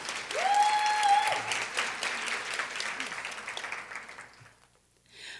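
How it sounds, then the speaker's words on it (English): Lecture audience applauding loudly and close, a dense wash of clapping that gradually tapers off, with a tone and brief voices near the start and a voice resuming at the end. "please give them another round of applause"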